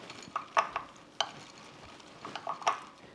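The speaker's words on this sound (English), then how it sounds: "Give it a little stir here." A spoon stirring melted chocolate in a bowl, with a few scattered scrapes and clinks against the sides, close and quiet, with gaps between the strokes.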